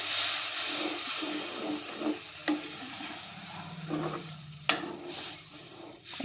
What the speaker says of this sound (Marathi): त्यानंतर थोडंसं पाणी घालून चांगलं शिजवून घ्यायचं आहे पिठलं